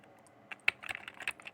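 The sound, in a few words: typing on a computer keyboard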